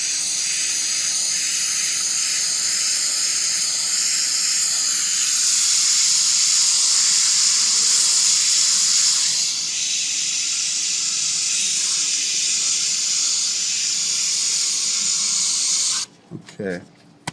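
An airbrush sprays paint onto the letters of a blank car license plate as a steady, close hiss that swells in the middle, then cuts off near the end before a few brief handling noises.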